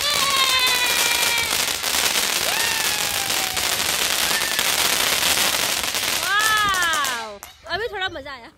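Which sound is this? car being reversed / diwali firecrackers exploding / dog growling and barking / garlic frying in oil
diwali firecrackers exploding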